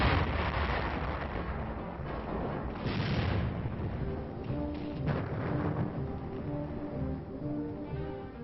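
Artillery fire during the Korean War advance toward Seoul, a series of heavy, distant booms and rumbling blasts on an old, muffled recording, with a strong burst early on and scattered thuds after.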